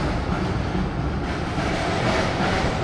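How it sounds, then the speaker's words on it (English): Melbourne tram pulling up along a city street at night, a loud continuous rumble of steel wheels on rails with a rattling clatter, steady and close throughout. "Okay, tram's going to pull up."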